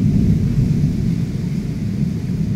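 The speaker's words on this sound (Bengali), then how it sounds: "দেখো মেঘের গর্জন" Deep thunder rumbles steadily through a Kalbaishakhi storm, a dense, continuous low roll without breaks and no voices.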